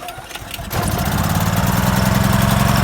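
A generator pull-started by its cord: a brief rope rattle, then the engine catches and runs steadily with a loud, even mechanical chug.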